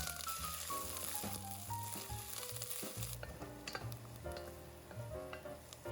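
Onions hiss and sizzle as they fry in hot oil in a pan with infused spices for a mango chicken curry, a steady close crackle with soft stirring and quiet background music.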